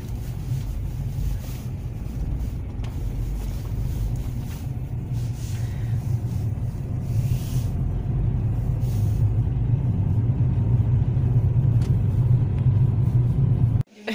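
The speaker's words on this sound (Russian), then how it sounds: "Вот, сейчас уже машинка прогрелась," A car drives steadily after its engine has warmed up, a continuous low rumble with road and wind noise that builds slightly, close and loud throughout, ending abruptly.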